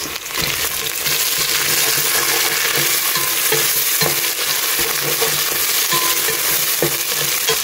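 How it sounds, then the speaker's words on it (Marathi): Chopped tomatoes hitting a hot pan of ginger-garlic masala for a one-pot meal, sizzling loudly and steadily with scattered stirring clicks and scrapes throughout, close and without talk. "तर आतां हितून हांव घालता चॉप टोमॅटोज"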